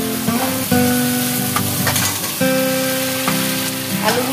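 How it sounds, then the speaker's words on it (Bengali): Spice masala for aloo dum sizzles steadily in hot oil, loud and close, with stirring scrapes and a faint tonal hum beneath the frying. "এবার একটু ভালো করে কষিয়ে নিচ্ছি।"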